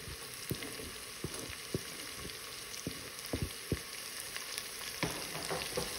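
Green pepper and finely chopped green onion sizzle steadily in a hot pan while a utensil stirs them, with sharp scraping clicks cutting through the constant fry close by.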